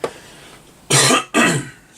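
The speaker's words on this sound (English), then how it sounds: "clearing my throat again" Two loud, harsh throat-clearing bursts in quick succession, close up, following a moment of quiet.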